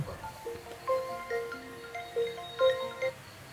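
A phone ringing in a quiet room, a melodic ringtone of short bright tones rising and falling in a repeating pattern, fairly faint and heard alone.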